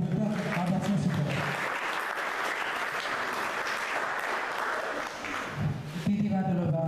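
An audience claps steadily for a magazine editor at a Georgian stage event, a dense wash of applause filling several seconds, with a voice speaking just before and after.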